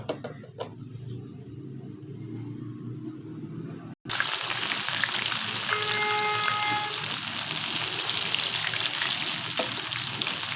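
Besan-coated chickpeas fry in hot oil, a steady crackling sizzle that grows louder after a brief break and then continues evenly, close up.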